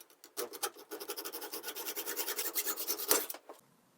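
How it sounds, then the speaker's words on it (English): Hacksaw cutting a 1-inch tube lengthwise into shims: a rapid run of fast, even back-and-forth rasping strokes lasting about three seconds, close and quiet, ending abruptly. "Each shim we're going to cut lengthwise."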